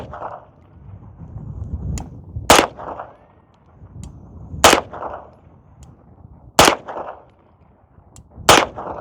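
Four sharp gunshots fired at a 15-yard range while re-checking a firearm's zero, evenly spaced about two seconds apart, loud and close, with quieter rustling and handling sounds between shots.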